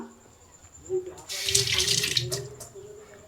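Tap water runs over jamun fruit as they are rinsed in a kitchen in Vrindavan, a soft trickle that swells into a loud splashing gush for about a second and a half, then eases off.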